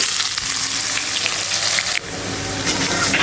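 Chopped onion sizzling in hot oil with whole cardamom, cloves, cinnamon and bay leaf, a loud continuous frying hiss with a brief stir partway through.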